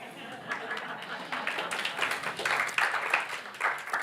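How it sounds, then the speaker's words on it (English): Audience applause at a live Catholic talk in St. Augustine: a modest, steady patter of clapping from a mid-sized crowd, with scattered claps and some murmuring voices, fairly even in loudness throughout. "that applause was adequate"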